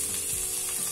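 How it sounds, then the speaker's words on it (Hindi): Chili powder dropped into a hot oil pan for lauki kofta masala, a brief, steady close sizzle with faint scraping, no talking. "1 चम्मच देगी मिर्च डाल दी हमने इसमें"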